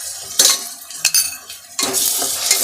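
Ginger garlic paste frying in a pan for mushroom biryani, with a steady sizzle and a few sharp stirring and utensil scrapes against the pan, close and moderately loud, no talking.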